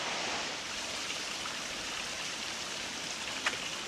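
A creek flows at a trail crossing on the Mountains to Sea Trail, a steady close rushing wash of water with one small splash near the end, alone without voices.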